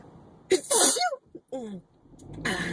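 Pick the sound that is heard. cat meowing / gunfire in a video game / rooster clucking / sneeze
sneeze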